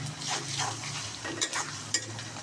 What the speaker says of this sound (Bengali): এখন দিয়ে দেবো আদা রসুনের পেস্ট